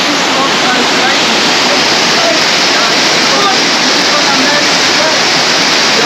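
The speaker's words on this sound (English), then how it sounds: "So guys, we have the waterfall." Waterfall rushing nonstop as a loud, dense wash of water noise filling the whole stretch, close and unbroken.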